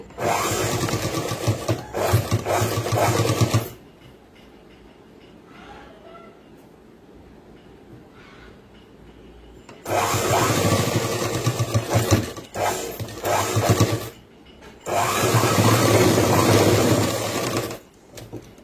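Sewing machine stitching a boys' school uniform pant, running in three loud steady bursts of rapid whirring separated by quieter pauses while fabric is handled.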